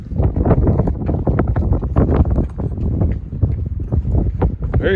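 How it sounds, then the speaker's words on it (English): Strong gusty wind on the Devil's Hall Trail in Guadalupe Mountains National Park buffets the microphone in loud, irregular bursts, with a roaring rumble throughout. "Very windy."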